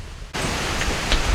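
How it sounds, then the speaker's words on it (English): Rain starts suddenly in a garden near a small tree, becoming a steady, close, even hiss that continues to the end with a few louder patters. "I think it's gonna rain, sure. Pause for a rain break."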